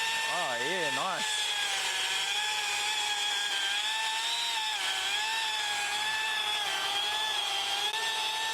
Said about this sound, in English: These electric chainsaws are a lot different, aren't they?